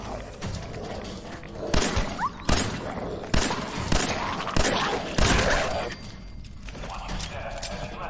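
Pistol gunfire in Fallout 4: sharp shots fired at an irregular pace, about six loud cracks over a busy layer of game sound and ambience.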